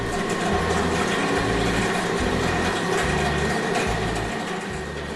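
Red tractor pulling a trailer full of yellow corn, its engine running with a steady droning rumble and a rhythmic low pulsing throb, fairly loud and continuous.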